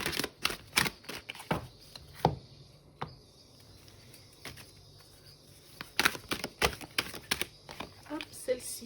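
An oracle card is drawn from a deck, giving quick bursts of crisp papery flicks and taps near the start and again toward the end, with a quieter lull of soft rustling in between.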